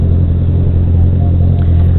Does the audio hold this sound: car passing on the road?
yes